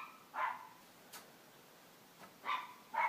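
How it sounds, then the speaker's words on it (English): A dog gives a few friendly barks from some distance, with three or four short, fairly faint woofs spaced irregularly against a quiet background. "it's a friendly bark"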